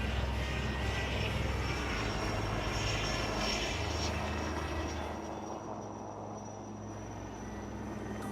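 Aircraft engines roar steadily at the Aero India 2021 air show, where Sarang helicopters and Surya Kiran jets fly a display, the drone holding loud and close before easing slightly toward the end.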